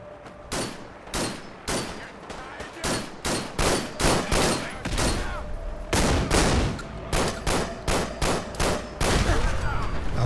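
Rapid gunfire in modded Fallout 4, a dense run of loud, sharp shots fired in quick bursts with short gaps, nearly continuous across the stretch.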